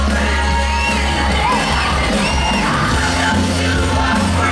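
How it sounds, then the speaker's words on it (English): Large New Year's Eve crowd at Disneyland Paris yelling, whooping and cheering in a steady loud roar over a continuous low music bed, with scattered individual shouts rising above the mass of voices. "We wanna hear the whole crowd"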